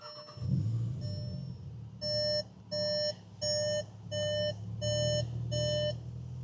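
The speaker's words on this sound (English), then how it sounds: "Has a lot of beeping going on sometimes." A 2025 Volkswagen Jetta GLI sounds a warning chime at startup: about seven evenly spaced electronic beeps, loud and close, over a low idling hum inside the cabin.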